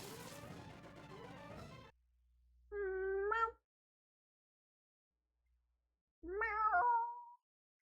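A house cat meows twice indoors, each a drawn-out, wavering call close to the microphone, following a burst of game music that stops abruptly.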